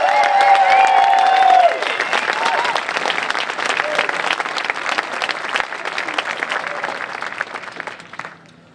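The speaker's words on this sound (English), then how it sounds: "How about one more round of applause for our Peabody team students?" Sustained applause with some cheering from the crowd at an eighth-grade moving-on ceremony for the Peabody team students, a voice audible at first, then steady clapping that thins out toward the end.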